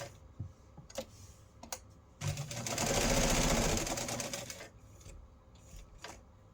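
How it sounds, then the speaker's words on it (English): A sewing machine chain-stitches a fabric envelope for a Christmas advent project, a few isolated needle clicks, then a steady fast whirring run of stitching for about two seconds, then scattered clicks again, close and moderately quiet. "and then stitch to the bottom. So it's just a little chain stitch"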